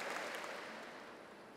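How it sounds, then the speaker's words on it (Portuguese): Applause from a church congregation during Sunday Mass, a steady broadband patter of many hands that starts full and slowly fades over under two seconds, with no talking. "Uma salva de palmas também à irmã e ao padre Josimar."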